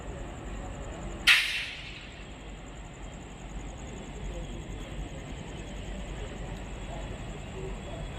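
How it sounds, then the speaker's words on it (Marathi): Dadar railway station platform at night gives a low, steady crowd rumble with a sharp hissing burst early on, a constant high electrical whine, and murmuring voices throughout. "हे बघा, दादर रेल्वे स्टेशनचं हे दृश्य बघा."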